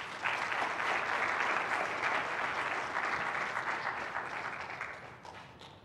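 An audience claps steadily as a doctor is welcomed to the podium at a sickle cell disease lecture, a dense sustained round of applause that gradually thins and fades toward the end, with no talk over it.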